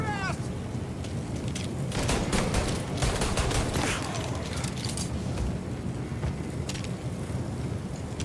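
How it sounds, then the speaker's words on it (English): Gunfire from the video game Mafia Definitive Edition, a burst of shots and fusillade crackling through the middle of the stretch over a constant ambient bed, with no talk. "I have to be steady when shooting."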